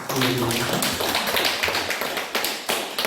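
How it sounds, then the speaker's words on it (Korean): A church congregation claps for the Lord in a dense, steady patter of many hands, with a few sharper individual claps standing out near the end and faint voices underneath. "우리 주님께 박수 한번 해드립시다"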